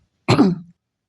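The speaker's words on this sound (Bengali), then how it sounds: "কাশি এরকম একটা হয়" A single short cough or throat-clearing from a person with a dust allergy, close and alone, lasting under half a second against silence.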